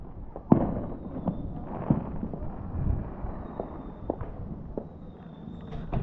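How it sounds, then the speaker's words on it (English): Fireworks and mini rockets going off on New Year's Eve, a string of sharp pops and bangs at irregular intervals over a steady background crackle, with a few short high whistles. "Come on, mini rockets."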